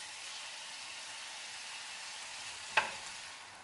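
Beef browning in a pan gives a faint, even sizzle throughout, with one sharp clink near the end.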